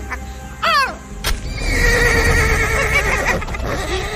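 A horse neighs loudly in a Hindi audio drama, a descending whinny with a sharp nearby crack, followed by a sustained background roar and bustle of animal and crowd activity.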